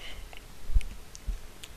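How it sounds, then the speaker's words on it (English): A computer mouse clicks while saving Skype settings, two or three faint, sharp clicks spread across a quiet room. "Then you're gonna click save."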